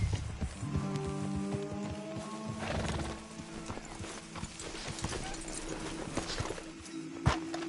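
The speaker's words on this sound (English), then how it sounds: "Let's leave the horses off the road to the right here." Horse hooves clip-clopping in Red Dead Redemption 2, with a neigh and a light rain-like hiss over the scene, steady hoof rhythm at close range throughout.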